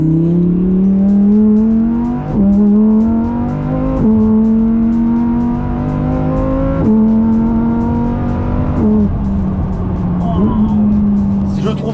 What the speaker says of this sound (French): Je trouve ça mais incroyable de faire encore des échappements comme ça en 2022.